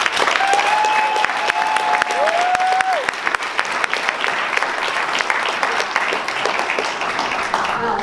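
Loud audience applause fills a hall at an awards event, steady dense clapping from a large crowd welcoming a speaker to the stage, with a few whistles rising over it.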